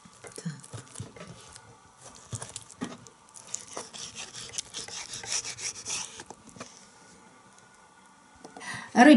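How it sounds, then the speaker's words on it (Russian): A very sharp knife slices through red fish fillet on a cutting board, making a steady run of soft rubbing, rasping strokes with small taps, fairly close, before a louder bump at the end. "Рыбку я нарезала."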